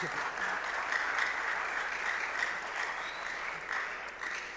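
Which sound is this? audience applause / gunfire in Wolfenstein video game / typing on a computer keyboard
audience applause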